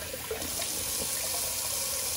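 Water runs steadily from a tap into a bathroom sink, a constant close splashing rush that stays level throughout.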